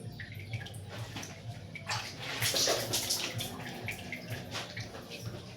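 Water splashes and drips close by as someone washes their face at a basin near a river, with broadband sloshing bursts strongest in the middle of the clip and no talking.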